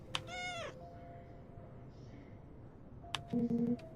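A cat in the horror game Evil Awaits meows twice, a long clear call at the start and a shorter one near the end, faint and close against a quiet background hum with electronic tones.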